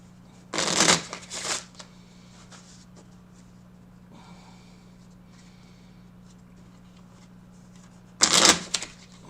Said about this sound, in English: Excuse me while I hand shuffle.